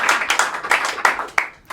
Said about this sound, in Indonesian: Kita kasih tepuk tangan dulu dong untuk nikah beda agama mungkin.